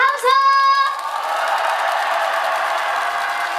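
Audience at a Hadong World Tea Expo celebration concert bursts into applause and cheering after a short vocal cue, a dense sustained wash of clapping and shouts lasting several seconds.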